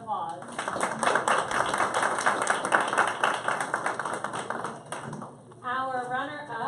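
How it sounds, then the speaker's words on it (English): Steady applause from a crowd at an elementary school spelling bee fills most of the stretch, then tapers off as a voice begins speaking. "Please give them another round of applause."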